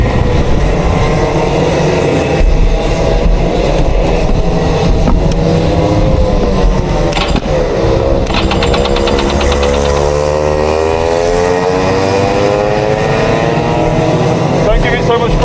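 A racing kart engine buzzes loudly on a wet track, rising and falling in pitch as it revs, and a voice talks over the continuous engine noise.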